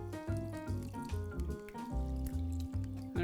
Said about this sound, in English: I'm gonna pour this over because we're gonna get all these chunks of garlic out and herbs and all that.